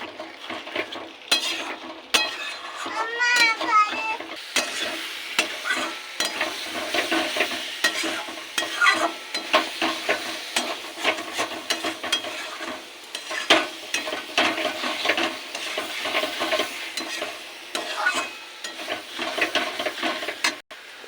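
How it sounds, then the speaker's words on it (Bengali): Fried potatoes stirred and sautéed in a spice paste for a Bengali potato curry, with steady loud sizzling and a spatula scraping around the pan continuously, close up and without any talking. "এবার দিয়ে দেবো ভেজে রাখা আলু। এটাকেও ভালো করে কষিয়ে নেব।"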